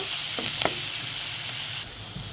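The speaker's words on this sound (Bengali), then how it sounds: "পেঁয়াজগুলো সুন্দর করে এখন ভেজে নিব" Onions sizzle steadily in a hot pan, a constant crackling hiss with a couple of brief scraping stirs near the start, then a slightly quieter sizzle.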